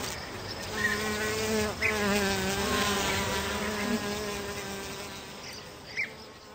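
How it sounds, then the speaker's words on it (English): Bees and flies buzz steadily in the countryside outdoors, a continuous close droning hum with a few brief swells as insects pass near. "the humming of the bees"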